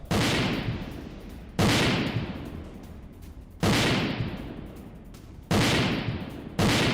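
Heavy gunfire from an attack at Bakhmut in combat footage: four loud, sharp blasts or bursts spaced about two seconds apart, each decaying into a rumbling tail, with no voices.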